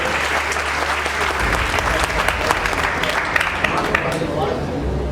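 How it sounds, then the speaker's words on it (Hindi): An audience applauds at a Chamber of Industries & Services event in Saharanpur, a dense and steady wash of many hands clapping that stays loud and even throughout. "रविंद्र मिगलानी जी के लिए जोरदार तालियां"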